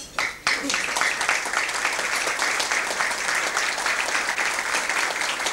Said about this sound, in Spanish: disertante invitado, al doctor Aguirre, con un caluroso aplauso